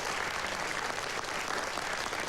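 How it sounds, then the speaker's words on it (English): Steady studio audience applause on a live TV talk show, a dense continuous wash of clapping at even level throughout with no voices over it. "Big round of applause for Suzanne Lynch."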